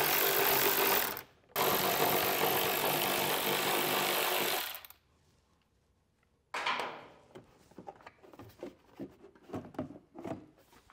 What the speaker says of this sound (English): So with our 10-millimeter socket, we'll go ahead and get those removed and then get our panel removed.